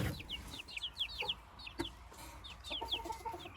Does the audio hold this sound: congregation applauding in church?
no